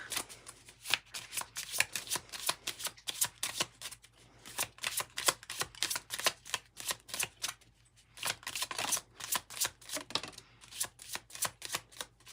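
Tarot cards are shuffled close up in quick bursts of riffling clicks, two runs separated by a brief pause, fairly quiet with no talk over them.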